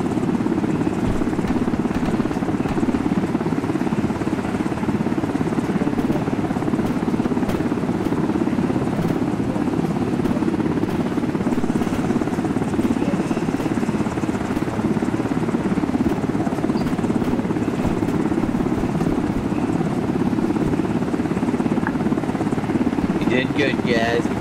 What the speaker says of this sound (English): get in the helicopter, guys